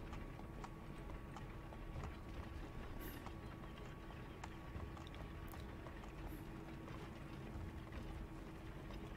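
Horses' hooves clip-clop steadily in Assassin's Creed 3, a soft continuous trot under faint ambient game sound, moderately distant with no talking.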